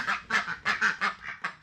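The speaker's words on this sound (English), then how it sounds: "Sitting over here making a ruckus," Ducks and geese honk and quack outside in a loud, repeated chorus of about seven nasal calls in quick succession, close by and with no talk over them.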